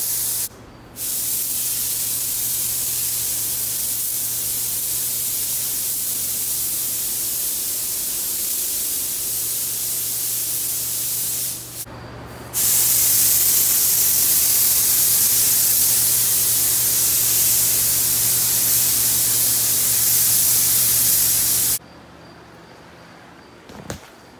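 Black spray paint being applied to the frame of a 1983 Diamondback Harry Leary Turbo bicycle, two long, loud, continuous aerosol hisses held for about ten seconds each with a brief break between, close to the can.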